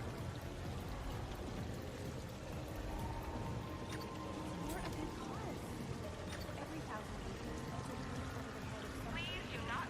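A steady rushing waterfall in Mass Effect 3 pours continuously at close range, with faint mechanical clicks and a brief voice over the constant wash.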